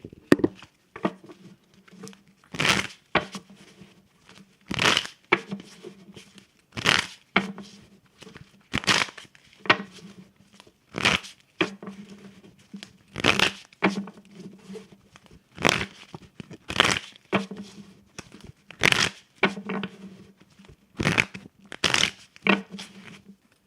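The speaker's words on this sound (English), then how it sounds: "I'm going to shuffle my cards again," Tarot cards are shuffled by hand in repeated bursts. Each riffle is a crisp, papery flurry, separated by brief pauses, and about a dozen shuffles follow in an uneven rhythm, close and fairly loud.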